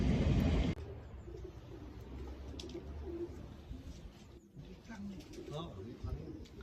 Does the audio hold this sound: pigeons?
yes